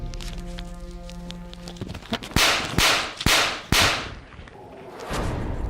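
A series of sharp smacks and thuds, about four hard blows in quick succession, land after a tonal passage and are followed by scuffling, as a woman hits a kinnar in a fight.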